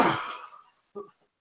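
A single loud sneeze bursts out up close and trails off, followed by a brief faint vocal noise.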